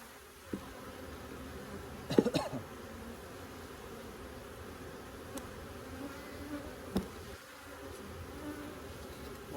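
Honeybees humming around an open beehive during an inspection, a faint, steady buzzing drone broken by a few soft knocks and handling clicks, fairly distant and quiet.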